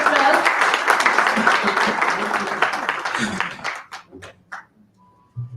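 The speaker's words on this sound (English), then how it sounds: "Please give him a big round of applause." Conference audience applauding an award recipient at a scientific event, a dense sustained round of clapping that thins out and fades to a few scattered claps and near-silence.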